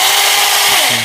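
A battery-powered mini cutting saw running in a shop, a loud close whine with a dense high buzz that holds steady and drops slightly in pitch at the end, no talking.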